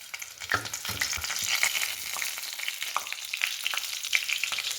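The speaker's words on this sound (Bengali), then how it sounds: "এই যে তেলও গরম হয়ে গেছে। সম্বাসের জন্য তেজপাতা, শুকনো লঙ্কা দিয়ে দিব।" Bay leaves and dried red chillies crackle and sizzle in hot oil, a busy, even spitting with small pops, close and alone.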